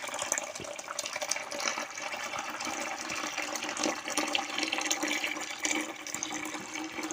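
Water drains away from soaked, soured wheat being prepared for wheat halwa. It makes a steady, continuous splashing trickle, close and fairly even throughout, with no talking.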